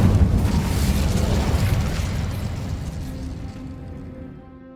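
A fiery Incendio spell is cast in Hogwarts Legacy: a loud, roaring burst of flame that starts at full force and slowly fades into a softer crackling tail.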